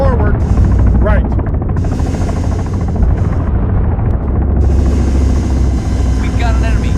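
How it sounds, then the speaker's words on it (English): A helicopter flies in the military video game Arma 3, a loud, steady rotor and engine drone heard close up, with voices speaking over it. "Helicopter. Left. 200 meters."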